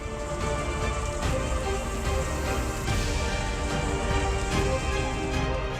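Heavy rain pours down steadily in Karnataka, a dense, unbroken hiss of downpour that stays loud and even throughout, with no voices.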